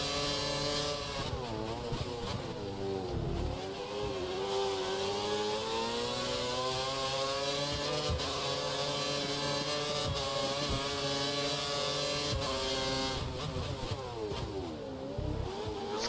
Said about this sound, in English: This car's spinning its wheels in 4th and 5th.